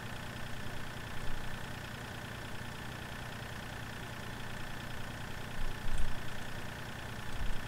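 Tractor engine idling in Farming Simulator 2013, a steady, continuous low rumble with slight swells, heard alone throughout.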